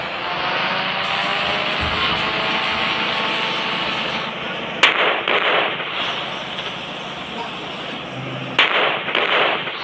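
Firecrackers burst outdoors in a continuous crackling roar, with two sharp louder bangs standing out partway through.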